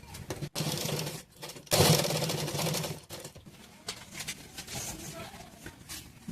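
A sewing machine stitches piping onto a simple blouse, a busy whirring rattle that comes in close bursts and pauses, with a person talking over and between the runs.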